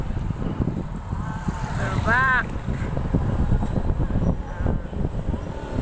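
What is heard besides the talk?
wind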